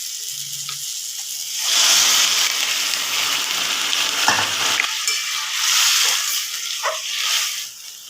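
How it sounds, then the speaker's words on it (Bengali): Water poured into a pan of frying fish head sets off a loud, steady sizzle and hiss with stirring scrapes, close up and continuous for several seconds. "এবার আমরা দিয়ে দেব জল।"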